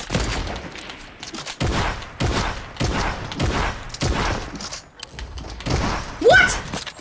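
Rapid gunfire bursts in Fortnite, loud and repeated in regular clusters across the whole stretch, with a voice talking over the shooting.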